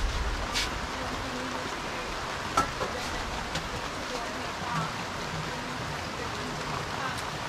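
Steady rain falls outdoors during a rainy afternoon snack, a broad constant hiss with a few sharper drops, near and moderately loud throughout.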